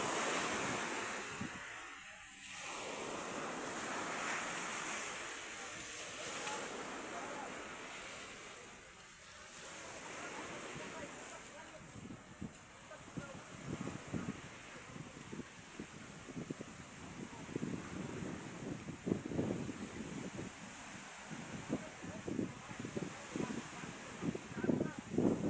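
Sea waves wash onto the shore beside a seaside hut area, a steady broad surf roar with wind buffeting the microphone and brief voices in places.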